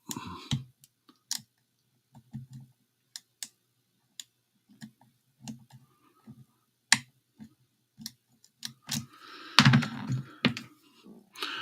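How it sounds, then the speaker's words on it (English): Bowling pins are being set by the pinsetter, giving sparse, irregular clicks and ticks close by, then a louder, denser clatter toward the end. "you can hear the pins. They're setting. They're clicking away."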